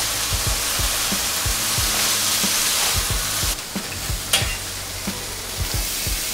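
Tofu fries in a hot skillet with a steady, loud sizzle throughout, broken by occasional soft taps and clicks near the pan and a brief dip in the hiss midway.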